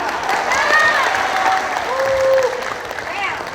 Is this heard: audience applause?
yes